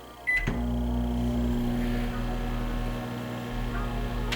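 A microwave oven runs with a steady loud electrical hum while heating ham and eggs, a sharp start at the beginning and a constant drone throughout, with no voices.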